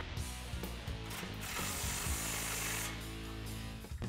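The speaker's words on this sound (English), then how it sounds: "we can grab our socket and wrench again and just tighten that last one down" Ratchet socket wrench tightening a bolt nut on a Body Armor front bumper of a 2014-2015 Chevrolet Silverado, a rapid steady run of close mechanical ratcheting clicks, no talking.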